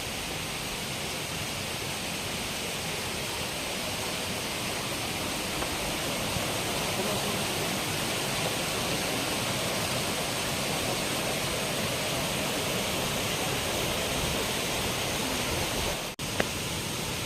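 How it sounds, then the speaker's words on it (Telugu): The Sithampetta Mettuguda waterfall roars as a constant, broadband rush of falling water, loud and steady throughout with no break and no speech. "మనం వాటర్ ఫాల్ దగ్గరికి వచ్చేసాము"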